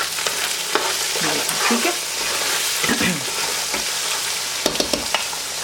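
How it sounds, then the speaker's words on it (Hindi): Golden-browned onions sizzling and frying in a pan for a chicken masala fry, with steady hiss and repeated scraping stirs throughout; a voice speaks briefly. "प्याज को अच्छे से फ्राई कर लेते हैं।"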